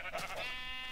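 A Minecraft sheep gives one short, clear bleat, close and alone, lasting under a second.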